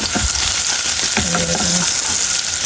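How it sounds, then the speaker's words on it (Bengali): Garlic fries hard in a pan, a loud steady sizzle filling the whole moment, close up, with a few faint utensil taps and clinks over it. "রসুনটা এখন ভালোভাবে এখানে লাল করে নেব।"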